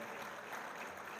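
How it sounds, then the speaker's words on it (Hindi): Audience applause at a mushaira poetry gathering, a brief steady wash of clapping that sounds faint and distant. "तालियों की गूंज में इस्तकबाल"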